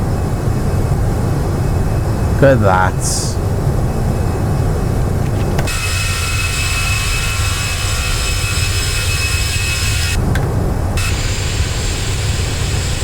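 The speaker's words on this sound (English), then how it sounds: "These engines are a little bit loud." Airbus A318 jet engines in the Prepar3D flight simulator, a loud continuous engine roar and whine that holds steady throughout, with a brief spoken remark early on and shifts in tone partway through.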